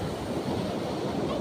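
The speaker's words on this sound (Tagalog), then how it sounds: "Mataas yung alon." Broadband surf roar from high waves at the beach in Agno, Pangasinan, steady and loud throughout with wind buffeting the microphone.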